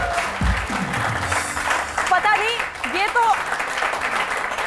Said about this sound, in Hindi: इसके लिए तालियां हो जाएं इसके जज्बे के लिए।